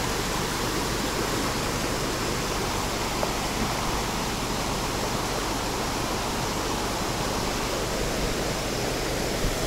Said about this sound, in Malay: Tu air sungai dia.